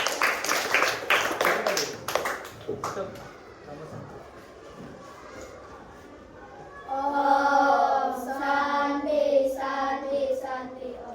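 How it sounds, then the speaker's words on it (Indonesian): A classroom of fourth-grade students claps in a brief burst of applause for a student group, dense and fairly loud for about three seconds before fading, followed later by a voice talking. "kasih tepuk tangan dulu untuk kelompok 3"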